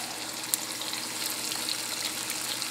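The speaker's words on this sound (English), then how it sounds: "I'll just drop these in the oil" Steady, crackling hiss of food frying in hot oil, a dense bright sizzle with tiny pops scattered throughout, close by and continuous.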